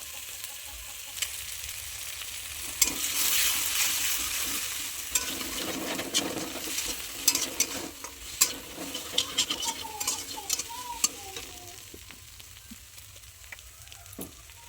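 Egg sizzling in oil in a pan for a homemade egg pasta, a soft continuous crackle with scraping stirs and small clinks of a spoon, fairly faint and growing quieter toward the end.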